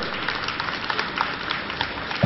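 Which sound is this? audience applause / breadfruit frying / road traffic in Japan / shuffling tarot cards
audience applause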